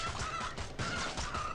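Cartoonish chicken enemies in the mobile game Swamp Attack 2 cluck and squawk in repeated bursts, mid-loud and continuous over the game's background sounds.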